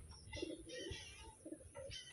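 Grizzle pigeons coo softly in a loft, with several low, throaty coos repeating in short bursts over faint background hiss.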